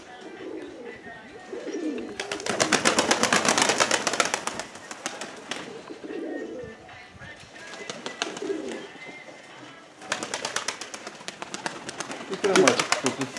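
Pigeons coo in a village in loud bursts, under people talking nearby.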